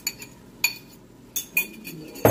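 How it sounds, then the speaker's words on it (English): Metal utensil clinking and scraping against a pan while cream of mushroom soup and water are stirred for turkey stroganoff; a few sharp, separate clinks close by over a quiet background, with no talk. "Stir everything until it's incorporated."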